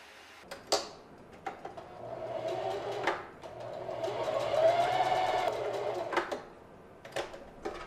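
A sewing machine stitching the crotch seam of a pair of shorts, with a rising whirring run of rapid mechanical stitching in the middle, framed by scattered clicks and taps of handling fabric, close and moderately quiet.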